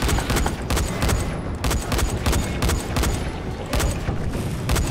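Loud, dense bursts of gunfire from the co-op zombie game Dying Light, with rapid repeated shots and a few heavier blasts in an almost continuous volley.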